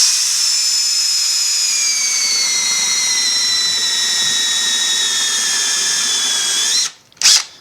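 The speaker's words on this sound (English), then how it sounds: "You'll hear as I drill with the Makita and the 5/8 bit how it strains." A Makita drill with a 5/8 bit bores through dense, hard bubinga wood, a loud, sustained high whine that slowly drops in pitch as the motor strains, then cuts out with a brief final burst.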